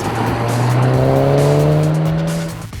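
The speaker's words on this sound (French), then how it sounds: "Son moteur plutôt discret à bas régime se met à grogner et souffler de façon impressionnante lorsqu'on le sollicite" Audi A1 Quattro engine growling and whooshing hard under acceleration, a loud sustained rising note close by that fades slightly at the end.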